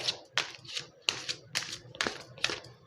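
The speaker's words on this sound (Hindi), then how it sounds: "तो कार्ड्स मैं करती हूँ शफल" Tarot cards are shuffled by hand close up, making a run of quick papery slaps and riffles in an uneven rhythm, six or seven bursts in under three seconds, with no speech.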